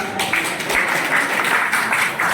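Audience applause at an Engineering Day celebration, a dense, steady wash of many hands clapping that holds at an even level throughout the short stretch, with no voices standing out.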